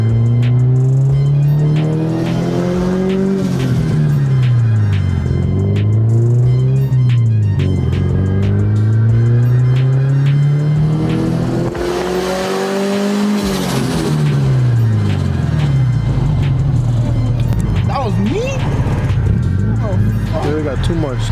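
Boosted Honda Civic revving and accelerating, engine pitch sweeping up and down repeatedly through gear changes, loud and close from inside the car, with a short pause and a voice talking over it.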